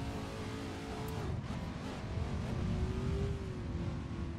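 Semi truck engine in a racing simulator, drifting with clutch stabs and a sequential shifter, a quiet, steady engine drone with rising and falling revs and no talking.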